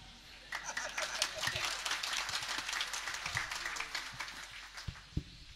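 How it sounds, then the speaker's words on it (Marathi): Audience at a Marathi devotional kirtan gives a steady round of hand clapping that sustains for several seconds, with a few louder individual claps near the end and faint voices mixed in. "पुन्हा टाळी वाजवा बरं"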